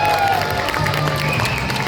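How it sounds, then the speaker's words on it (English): A circus crowd claps, whistles and cheers for a few seconds, a dense wash of applause with shrill whistles rising over it and no clear voice leading. "Clap, whistle, cheer, make some noise."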